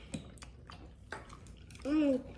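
Someone chews a bite of steak with mushroom gravy, making soft, close, wet clicks and smacks, then gives a short, pleased hum.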